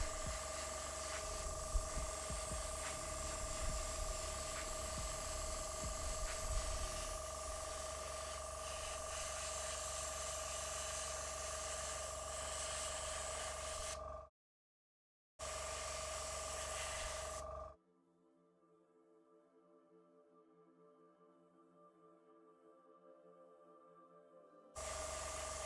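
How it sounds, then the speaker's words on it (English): A hobby airbrush sprays paint onto Warhammer 40k Dark Angels miniatures, giving a steady, faint hiss with a low compressor hum beneath it, then a brief cutoff and a quieter, softer stretch of spraying. "seeing how to make the paint flow through the airbrush and keep it flowing"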